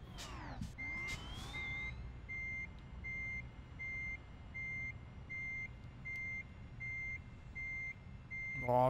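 A heavy electric truck in Euro Truck Simulator 2 sounds its reversing alarm, a steady series of evenly spaced beeps running throughout over a constant low engine and road hum, with a few brief tonal chirps near the start.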